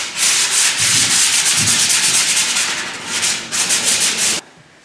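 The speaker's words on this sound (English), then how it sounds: "we're just giving a very quick sand off with some fine sandpaper" Rapid back-and-forth strokes of fine sandpaper rasp against a wooden table and chairs, close and loud in an even rhythm, then stop abruptly near the end.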